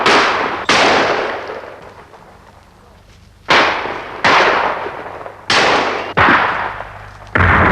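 Loud gunshots fired at squirrels in a leafless winter tree plantation. Six sharp cracks ring out at uneven intervals, each trailing off in a long echoing decay.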